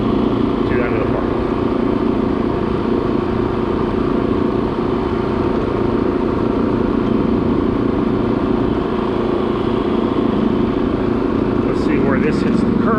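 A Graco LazerGuide 2000 line striper drives down a parking lot, its small engine droning steadily and loud throughout, with someone talking over it.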